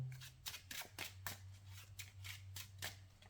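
Quiet, quick papery riffles and flicks repeat in short bursts as a Cardfight!! Vanguard card deck is shuffled close by.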